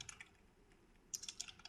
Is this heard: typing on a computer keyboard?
yes